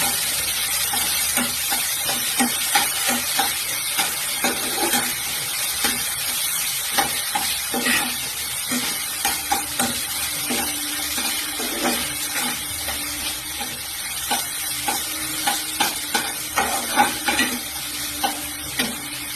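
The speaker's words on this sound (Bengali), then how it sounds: "মশলাটা করতে করতে কড়াইশুঁটি গুলোকে ওই সাথে দিয়ে নেড়ে ফেলে নিচ্ছি।" Green peas are stirred into a spice masala frying in a wok for a potato dum curry, with a steady loud sizzle and repeated scraping stir strokes throughout, no voices.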